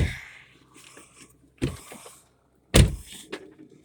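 Door lock on a 2000 Chevy Tahoe that has stopped working gives three sharp, close clicks or clunks spaced about a second apart, with quiet gaps between them.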